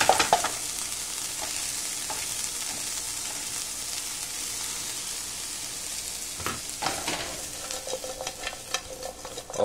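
Eggs and vegetables fry softly in a pan while being mixed around. A gentle continuous sizzle is broken by occasional spoon scrapes, which grow busier toward the end.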